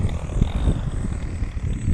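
A gas-powered RC airplane drones on approach to land at a flying field, its engine a steady, buzzing hum with a faint high whine, moderately close and continuous throughout.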